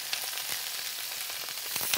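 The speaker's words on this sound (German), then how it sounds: "Weil das brutzelt doch sehr." Black salsify fries in a pan with a loud, continuous sizzle and crackle, dense and close, with small popping bursts throughout and no talking.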